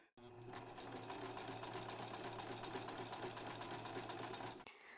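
A sewing machine stitching a seam on knit fabric, running in a rapid, steady mechanical whir close by for several seconds before stopping abruptly, with no talking.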